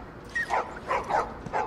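A dog in the video game The Last of Us gives a series of four or five short yips and barks in quick rhythm, close and moderately loud.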